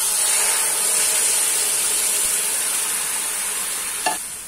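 Semolina halwa sizzles and hisses loudly in a pan just after water is added, a dense steady frying roar that slowly eases, with one small clink of a spoon near the end.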